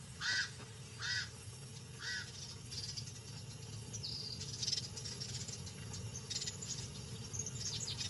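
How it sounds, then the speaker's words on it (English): Harsh pied crow caws ring out in short bursts, three distinct calls early on, then scattered calls over a steady insect buzz and low rumble of wind. "Pied crows mob her."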